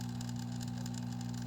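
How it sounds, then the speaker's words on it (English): A Malaysian trumpet snail pushes into a fish tank filter's propeller, which gives a steady low mechanical buzz with a faint fluttering rattle on top, quiet and brief. "That is the sound of a snail who's trying to get into a propeller right now."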